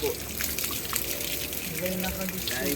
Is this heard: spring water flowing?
yes